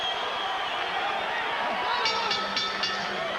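Boxing crowd noise at the Marquez vs Polo fight, a broad, steady roar of the arena audience with a few sharp bursts near the end, mixed under commentary.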